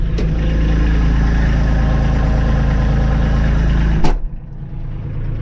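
A new Kubota diesel engine idles steadily in a garage at about 1,081 RPM, a loud, even low rumble that holds for four seconds before a sharp knock and a drop to a quieter, smoother idle.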